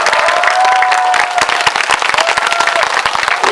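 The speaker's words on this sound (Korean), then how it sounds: "여러분을 준비해주신 조인성 씨를 위해 다시 한번 뜨거운 박수 부탁드립니다" A theater audience at a Korean film event with actor Zo In-sung gives warm, sustained applause: dense, steady clapping that fills the room throughout, with a faint cheer rising briefly.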